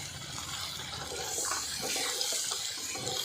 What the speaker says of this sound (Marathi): आता यामध्ये मी थोडंसं गरम पाणी घालणार आहे.